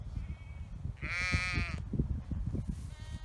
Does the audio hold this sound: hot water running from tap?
no